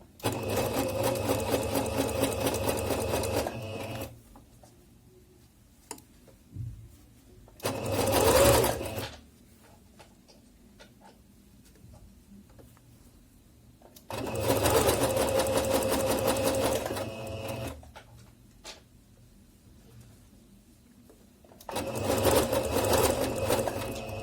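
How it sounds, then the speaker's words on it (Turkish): A sewing machine stitches a folded hem along the edge of fabric in several separate bursts of fast, even mechanical chatter. Quiet pauses fall between the runs. "dikime ben başlıyorum"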